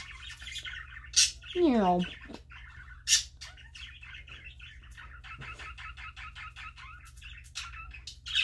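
A pet parakeet chirps and squawks indoors, with sharp calls, a rising warble and rapid trilling chatter close by, while a voice speaks briefly over the steady room hum.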